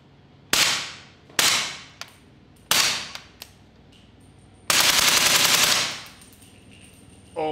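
Shots ring out from a .300 Blackout Steyr AUG bullpup rifle: three loud single cracks with echoing decay, a couple of lighter clicks, then a sustained rapid burst of automatic fire lasting over a second.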